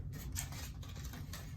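Scissors snip through paper while a shark craft's mouth is being cut out, a steady close rasp of blades with a few brief louder cuts over a low room hum.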